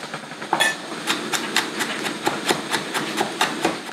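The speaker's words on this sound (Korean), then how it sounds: "마늘은 다섯 알 정도만 다져줍니다." Garlic cloves minced with a knife on a cutting board: a steady run of sharp, evenly spaced chopping taps, close and fairly loud, with no talking.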